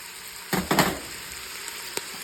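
Chopped yellow onion and green pepper dropped into a hot pan with ground beef, a couple of loud sizzling bursts settling into a steady low fry, close by with no voices.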